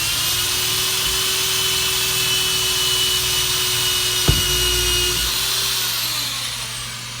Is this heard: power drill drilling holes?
yes